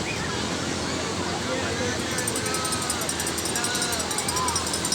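Large sea waves break at a crowded beach resort on Christmas Day, a steady loud wash of surf mixed with wind and distant crowd babble.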